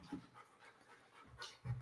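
A dog panting quietly close by, soft rhythmic breathy huffs in a few short bursts, with no talking.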